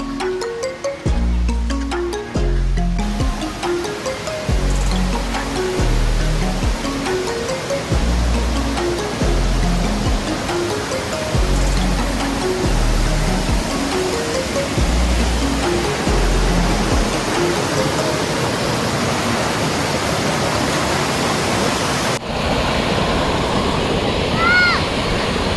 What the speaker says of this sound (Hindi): So this is the view of gigantic Dudhsagar waterfall.